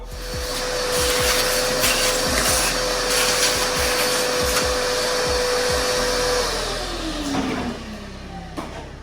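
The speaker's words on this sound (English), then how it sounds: "I'm gonna end up getting my vacuum and vacuuming up some of that dirt that I put in there." A vacuum cleaner sucks loose dirt out of a GM 6.0 engine being torn down for a rebuild, a steady close whine with clattering debris rattling through the hose before the motor shuts off and spins down near the end.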